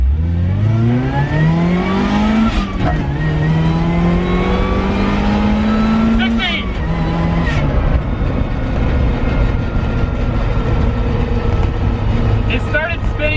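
A supercharged offroad Mazda Miata accelerates hard with wheelspin, its engine note climbing loudly, dropping briefly and climbing again as it pulls away, close and continuous throughout.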